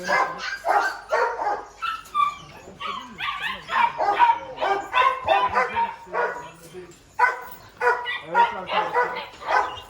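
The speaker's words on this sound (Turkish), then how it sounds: "Orijinal, malaklı, çok kalite bir köpek bu da arkadaşlar" A Malakli dog barks repeatedly in quick, yappy bursts with some whimpering, close by and loud, continuing throughout.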